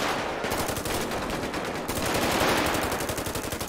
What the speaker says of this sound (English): He shot me and kept going.